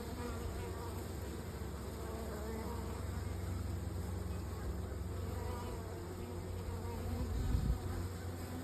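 A swarm of honeybees clustered on a tree limb gives off a dense, continuous buzzing hum that holds steady throughout, with no voices.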